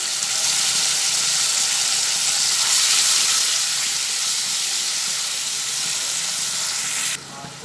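Grated tomato drops into a pan of frying ginger, raising a loud, continuous close-up sizzle and hiss that holds steady and then cuts off abruptly near the end.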